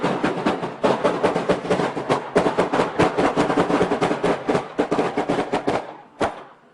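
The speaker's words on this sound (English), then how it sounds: "Gunfire erupts." Dense, continuous bursts of rapid gunfire from a police raid crackle without pause for several seconds, then break off into a final isolated shot.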